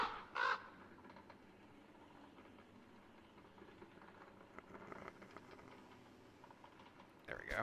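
Bird caws in the video game Don't Starve: a loud squawk near the start and another at the end, with quiet keyboard tapping and faint talking in between.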